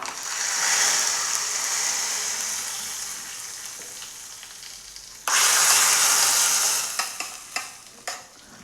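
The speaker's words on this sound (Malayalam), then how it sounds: "ഇനി നമ്മൾക്ക് അതിലേക്ക് പിന്നെ 3 വറ്റൽമുളകും 1/4 ടീസ്പൂൺ ഉലുവ 1/4 ടീസ്പൂൺ കടുക്, ഇത് 3ഉം കൂടി നമുക്കൊന്ന് വറുത്തിടാം" Dried red chillies, fenugreek and mustard seeds fry in hot oil for a tempering, a steady loud sizzle that surges sharply midway, then crackles and pops as the seeds splutter, with no voice.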